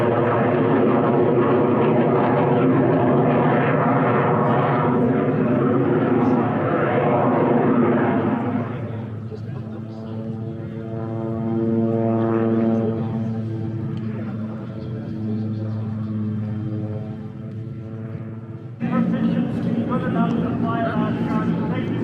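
Warbird airplanes fly over the AirVenture 2024 air show, their engines a broad, steady roar that swells and shifts across the whole stretch while people talk throughout.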